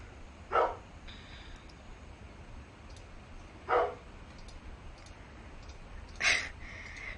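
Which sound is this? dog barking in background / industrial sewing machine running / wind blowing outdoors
dog barking in background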